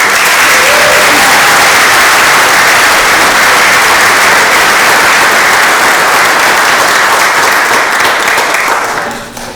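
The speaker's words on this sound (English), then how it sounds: "Let us give another well-deserved round of applause for the class of 2025 Athletic Hall of Fame inductees" Loud, sustained applause from a large crowd at a school Athletic Hall of Fame induction ceremony, dense steady clapping filling the room for several seconds before tapering off at the end.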